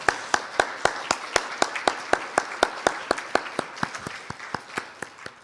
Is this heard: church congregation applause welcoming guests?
yes